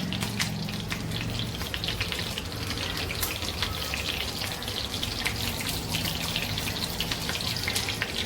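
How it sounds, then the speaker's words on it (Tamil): Loud, steady sizzling and crackling of paneer frying in hot oil in a kadai, with scattered pops throughout and no voices. "இப்போ இதில் நம்ம பன்னீரை ஃப்ரை பண்ணிக்கலாம்."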